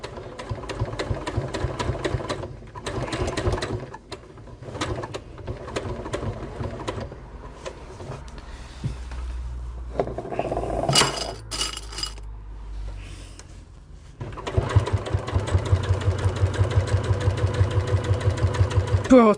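A sewing machine works slowly over the bulky layers of a bag, running in short bursts of rhythmic clattering, then a longer steady stretch, close and fairly loud, with a person talking between and over the runs.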